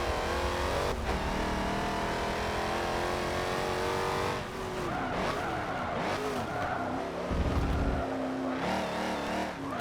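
Race cars in Forza Motorsport 7 surge off the line at a race start, engines revving hard with tire squeal and skids, a dense, loud pack roar that rises and shifts continuously with no talk.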